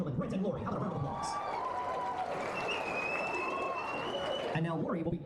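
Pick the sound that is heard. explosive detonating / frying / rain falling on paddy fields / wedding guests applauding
wedding guests applauding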